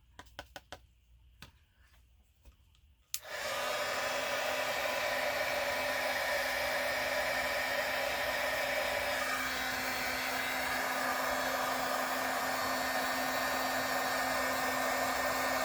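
A heat gun melting embossing powder roars on with a sudden start after a few light taps and clicks, then blows as a loud, steady whoosh with a constant hum.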